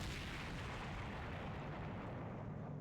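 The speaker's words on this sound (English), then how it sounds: "I blackened out just as a massive explosion rang out." A massive explosion in the video game The Hundred Line gives a dense, rumbling blast that roars steadily for about three seconds, with no voices over it.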